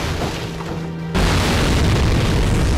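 A bomb goes off in a video game, one sudden loud, dense blast about a second in that holds as a roaring burst to the end.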